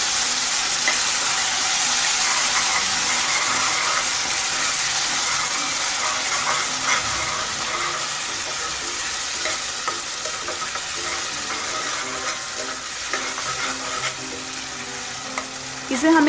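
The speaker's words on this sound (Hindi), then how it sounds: "इसे हमें मीडियम फ्लेम में गोल्डन ब्राउन होने तक भूनना है।" A spice paste for a jackfruit curry fries on a medium flame, giving a steady soft sizzle with intermittent stirring scrapes that runs alone for several seconds.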